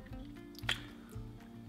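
Small wet drips and squishy trickles from a flooded underwater lens filter, a few soft separate drops against a faint low hum, close and quiet with no talk.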